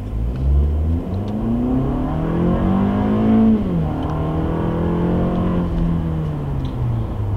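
A 2020 Toyota Camry XLE AWD in sport mode accelerates hard, its engine note rising steadily, dipping at a shift, then climbing again, loud and continuous from inside the car with no talking.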